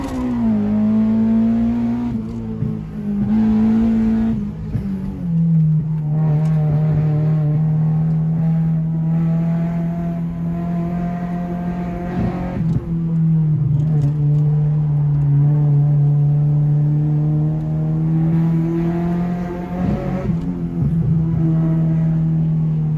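A car engine with launch control drones loudly and steadily, its pitch rising and falling in repeated revs over about twenty seconds, with no talking.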